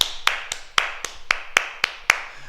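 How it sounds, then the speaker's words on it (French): Applause at the close of a martial arts class, heard as about nine sharp, separate claps spaced roughly a quarter second apart, close and fairly loud, with no voices over them. "On mérite une bonne main d'applaudissements encore."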